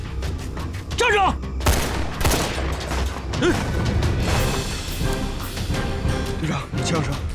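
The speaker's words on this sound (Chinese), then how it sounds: "枪声" Gunfire erupts in a wartime action film scene, with loud bursts and impacts spread through a dense, busy soundtrack, mixed with shouting and other action noise throughout.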